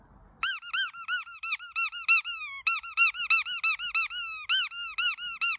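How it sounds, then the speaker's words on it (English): A dog's favourite rubber squeaky toy squeaks loudly and close in quick bursts of two to four high squeals, with brief pauses between the groups and no voices. "he wants his squeaky toy"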